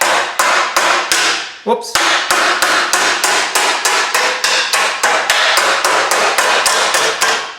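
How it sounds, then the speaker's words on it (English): A square-faced body hammer strikes a sheet metal patch for a junkyard Cadillac in a steady, loud, evenly spaced run of sharp metallic blows, with one brief pause and a muttered word partway through. "I'm gonna go to the right hammer this time. The actual body hammer."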